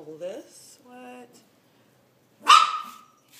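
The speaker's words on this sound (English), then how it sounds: "Hey, quit barking." A single dog gives a short, sharp bark close by, sounding once near the end after brief speech and a stretch of quiet.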